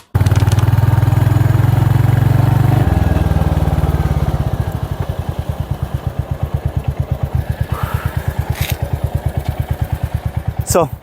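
Close, loud Royal Enfield Hunter 350 motorcycle engine revving and then settling into a steady, thumping pulse as it rides, with a brief whine near the end.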